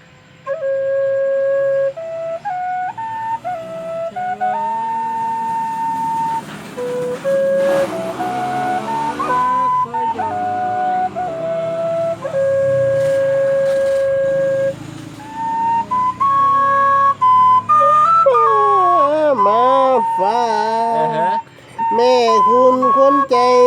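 A breathy Thai bamboo flute plays wavering melodic notes, some held and some bending sharply in pitch, loud and close, with a few pauses.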